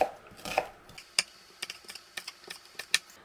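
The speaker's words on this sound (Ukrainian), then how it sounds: "а ми швиденько нарізаємо цибулю та стрілки чеснику" Kitchen knife chopping onion and garlic scapes on a board, a run of sharp, irregular close-up taps and clicks spaced through the clip at moderate level, with no talk.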